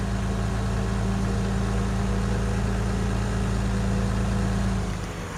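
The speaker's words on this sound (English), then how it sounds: "you've got a nice JCB fast track as a starting tractor" A JCB Fastrac tractor engine idles steadily in Farming Simulator 19, a constant low rumble with a tonal hum that holds even and loud before fading out at the very end.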